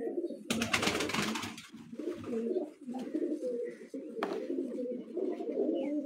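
Pigeons coo steadily on a rooftop in Kala Bagh, several birds overlapping in a continuous low, warbling murmur, with a brief burst of broadband rustle near the start.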